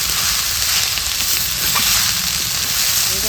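Susni greens and bitter gourd (karela) frying together in a pan, a steady, dense sizzle held close and fairly loud the whole way through, with no voices.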